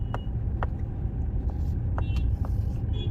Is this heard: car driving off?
yes